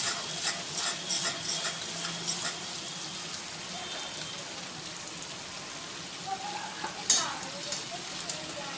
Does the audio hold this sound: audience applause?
no